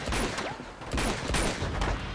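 Gunfire in the video game Uncharted 2, rapid bursts of automatic shots crackling densely for about two seconds, loud and close.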